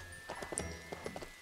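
Horse hooves clip-clop in a quick, light trotting rhythm in LEGO The Hobbit, fairly soft and brief, with a faint musical tone in the background.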